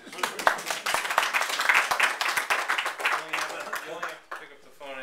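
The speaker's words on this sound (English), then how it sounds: "You can clap" An audience at a salon event claps in a brisk, uneven burst of individual hand claps that thins out toward the end.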